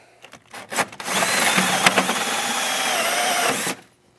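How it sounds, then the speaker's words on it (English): A hand drill bores a hole through a Ski-Doo E-TEC snowmobile panel for an exhaust outlet: a few short taps and bursts, then one sustained whining drill run of about two and a half seconds, close and alone. "drill a pilot, drill whatever you want to do"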